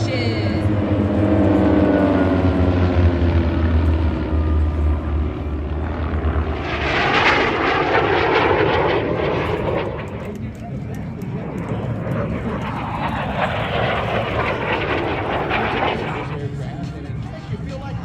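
Several aircraft pass overhead in cluster formation at the March Air Force air show, a loud continuous engine roar that swells and recedes in two broad sweeps.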